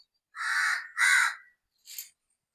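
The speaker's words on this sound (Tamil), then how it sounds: "இது காக்கா கத்துது" A crow caws in a home vegetable garden: two long, loud caws back to back, then a shorter, fainter third call after a pause, with no other sound around them.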